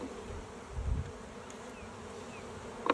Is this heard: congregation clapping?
no